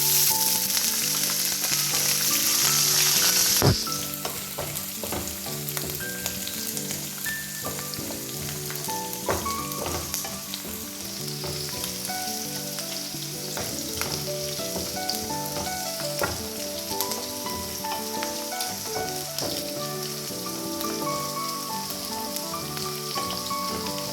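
Ginger, garlic and green chilli fry with mustard seeds and cumin in hot oil for a tomato pickle. A steady close sizzle and crackle runs throughout, with a stir or clatter at the start and no talk.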